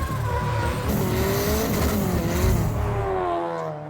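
AP engine-powered Brazilian drift car with tires squealing loudly and continuously, a sustained screech over a steady droning engine, close and intense throughout before easing slightly at the end.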